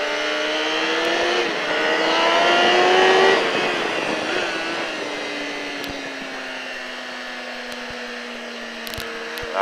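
A motorcycle engine revs up hard on a track at Alès, its whining pitch rising then falling back through a gear change, loud and close, alone with no talk.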